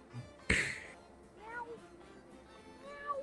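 A cat in a video game lets out a few short, clear meows after a sharp click near the start, heard up close with little else around.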